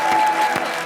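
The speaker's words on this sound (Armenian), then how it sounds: "Եկեք շատ բարձր եւ ջերմ հայկական ծափարություններով դիմավորենք" Studio audience at a sports talk show breaks into loud, dense applause to welcome a guest, a continuous burst of clapping heard close.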